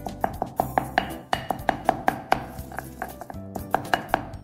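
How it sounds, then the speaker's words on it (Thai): Dried chillies pounded in a mortar with a pestle, a run of about twenty sharp, fairly close thuds in an uneven steady rhythm, each knock ringing briefly with a woody, hollow tone. "เราค่อยๆโขลกฮะ"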